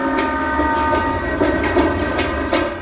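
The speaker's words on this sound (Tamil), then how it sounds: "ட்ரெயின் கிளம்பிடுச்சுக்கண்ணா" A train pulls away along a railway track: a loud, steady rumble with rhythmic clickety-clack of the wheels, and a horn sounds over it.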